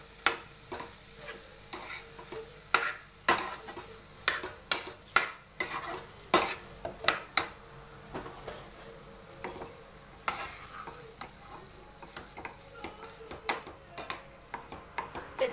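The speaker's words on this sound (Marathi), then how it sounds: "पनीर आता व्यवस्थित मिक्स करूया सगळं मसाल्यात" Paneer crumbled by hand being stirred into a spice masala in a frying pan for Punjabi paneer bhurji, with a steady run of sharp spoon scrapes and clinks against the pan over a soft sizzle, close and fairly quiet.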